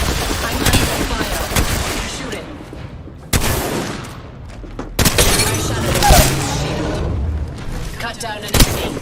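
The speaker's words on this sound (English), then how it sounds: "I'm under fire. Shooting." Gunfire in a video game battle, several sharp shots and bursts cracking over a busy background, with a voice talking underneath.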